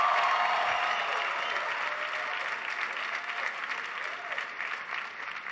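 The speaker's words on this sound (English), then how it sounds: "can everybody please give Faith a big round of applause for the great introduction" Audience applause at a presidential town hall with young African leaders: dense, steady clapping from a large crowd that stays loud throughout, fading only slightly toward the end.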